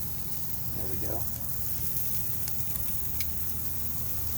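Steaks sizzle in a pan as they cook, a steady broadband hiss that holds throughout at moderate level, with a brief voice early on and a few faint clinks.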